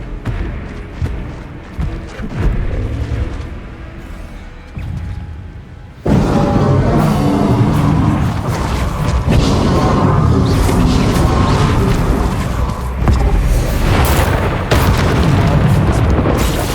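Confringo fire spell cast in the video game Hogwarts Legacy during a goblin battle, a loud booming blast that erupts suddenly and rumbles on continuously, following quieter game sounds.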